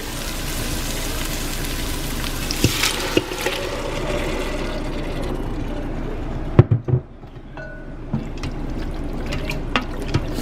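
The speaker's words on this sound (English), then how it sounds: "I'm going to add the meat now with all its liquid" Meat with all its liquid is poured into sautéed onions in a pot, giving a continuous watery splashing and pouring. Several clanks and knocks come midway, and the sound eases off toward the end.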